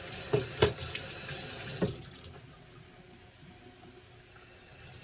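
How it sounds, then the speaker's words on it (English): Water runs from a kitchen sink tap while beets are prepared for salad, a loud hissing stream with a couple of sharp splashes early on before it eases into a softer, steady trickle. "I let the water run a little bit."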